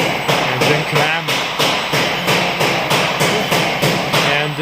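A double-sided grinding machine for circular saw blades clamps and runs with a steady, loud mechanical cycle of rhythmic knocks repeating about every half second.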